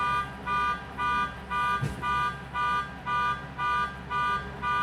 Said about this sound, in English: He likes to let his car alarm go off for 10 minutes at a time.